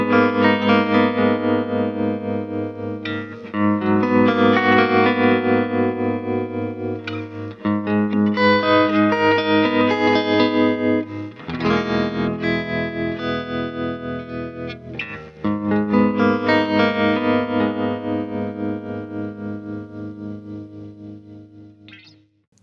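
Electric guitar played through a Vox AC30 C2X valve amplifier loaded with Celestion Alnico Blue speakers, using its bias tremolo and spring reverb: loud sustained chords and riffs swell and pulse steadily, with brief pauses between phrases and no talking.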